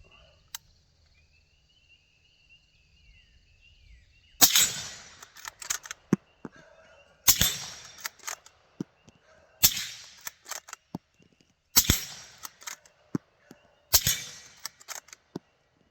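A Ruger pistol with a Pro Mag magazine is test-fired outdoors: five sharp, loud gunshots at uneven intervals of about two to three seconds, each followed by brief rattles and clicks, with faint insects and birds behind.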